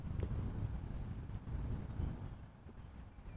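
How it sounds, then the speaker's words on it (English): Wind rumbles across the microphone outdoors at Amsterdam Schiphol Airport, a low, buffeting roar that surges and eases and then drops slightly toward the end. "This is where the wind is coming from"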